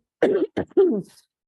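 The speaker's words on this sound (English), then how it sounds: "let me clear my throat" A person clears their throat in a few quick, rough bursts, close to the mic, followed by a short quiet pause.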